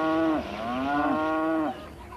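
A single cow lows in a long, drawn-out moo, loud and close, rising and holding before trailing off, with no other sounds around it.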